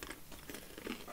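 Biting into a crunchy oven-baked Australian cracker, a short, close-up dry crackle and crunch at low volume with a brief burst near the end.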